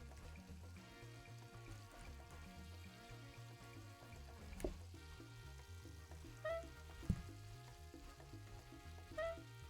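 Steak sizzles steadily in a pan in the cooking video game PlateUp, a soft continuous frying hiss under background music with a few brief clicks and clatters.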